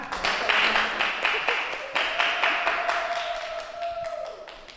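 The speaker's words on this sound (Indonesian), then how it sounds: "Kasih tepuk tangan dulu biar semangat." A classroom audience applauds a student group presentation. A burst of scattered hand claps is loud at first, then thins out and fades over several seconds.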